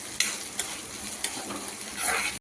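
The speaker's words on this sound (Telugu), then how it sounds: "కరివేపాకు కూడా ఇలా మంచి కడకగా ఫ్రై చేసుకోవాలండి, క్రిస్పీగా అయ్యే వరకు" Curry leaves crisping in hot oil for homemade idli karam, a continuous close sizzle punctuated by several light spatula scrapes and taps against the pan, ending abruptly.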